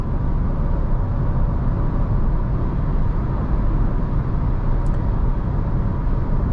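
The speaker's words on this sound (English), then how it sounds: "When you floor this car, it just picks up speed easily." A 2021 Renault Zoe Intens electric car pulls hard under full throttle at night, a steady broadband road and motor roar filling the cabin continuously and loudly with no voices.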